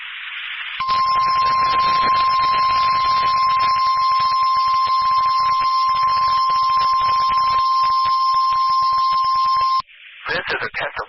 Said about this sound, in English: This is a test of the emergency alert system in NOAA Weather Radio's warning alarm.